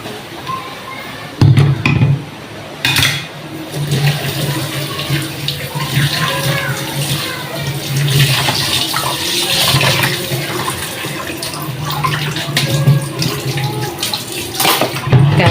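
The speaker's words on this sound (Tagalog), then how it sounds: "Hugasan natin yung mga pernituhan." Frying pans being washed under a running kitchen tap, with a steady stream of water splashing and occasional clanks of cookware, close and fairly loud throughout.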